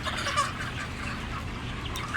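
Large chickens in a poultry barn with big fans running cluck continuously in a dense flock, an overlapping chorus of soft clucks over a steady fan hum, close and fairly loud.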